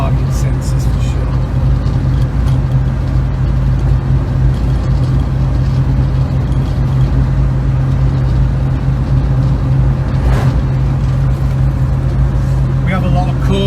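A 1967 Volvo 122S Amazon Wagon on a drive through the countryside, its engine drone and road rumble heard from inside the cabin as a loud, steady low hum running throughout.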